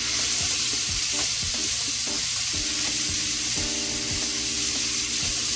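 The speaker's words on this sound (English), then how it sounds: "Now I'm gonna go back in there and add that ground chuck from earlier, and also that beef sausage from earlier." Ground chuck and beef sausage fry in a pot with a steady, close, loud sizzle, broken by occasional scraping clicks of stirring throughout.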